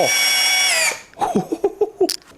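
An STR STR-712 impact drill with a 13 mm socket whines loudly for about a second while driving a screw, then stops, followed by a few short clicks and knocks.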